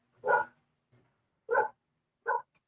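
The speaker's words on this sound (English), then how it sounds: "Fucking neighbor's dog is such a bitch." A neighbor's dog barks three times with pauses between, each a short, full-throated bark at moderate distance, followed by a brief faint yip in otherwise quiet surroundings.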